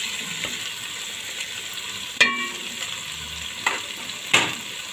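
Baim fish pieces fry in a pot of cooked spice paste with a steady, close hiss. A few sharp scrapes and clinks mark the stirring.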